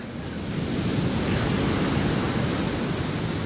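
Ocean waves break steadily at Sunset Beach on Hawaii's North Shore during a professional surf contest, a continuous, fairly loud rushing surf roar with a slight swell in the first second and no voices.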